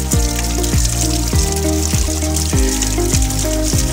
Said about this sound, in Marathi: मित्रांनो पाहू शकता तहान लागले आणि आपल्या झऱ्याचं नॅचरल पाणी या ठिकाणी.